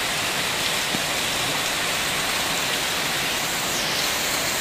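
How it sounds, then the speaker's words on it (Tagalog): Steady, heavy rain pours down in Metro Manila in a dense, continuous hiss, with no voices and no letup from start to finish. "Malakas ang ulan."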